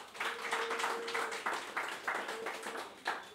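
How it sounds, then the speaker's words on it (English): Scattered applause from a small crowd at an evening bar event, quiet and somewhat distant, with a faint steady tone running underneath. "Round of applause for everyone"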